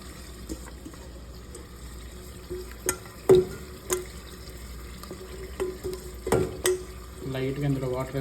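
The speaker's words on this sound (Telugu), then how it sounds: "మనం ముందుగా మ్యారినేట్ చేసుకున్న మటన్ ఇప్పుడు కుక్కర్లో వేస్తున్నాము" Marinated mutton sizzles in oil in a pressure cooker while a spoon scrapes and clanks against the metal in sharp, irregular strokes over a low frying hiss, with a voice starting to speak near the end.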